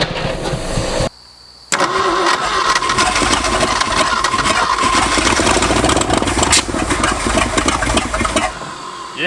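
Abandoned Ford F250 pickup engine starting after 26 years of sitting: after a brief pause the engine catches and runs loud and rough, revving with a dense, rumbling idle close by for several seconds.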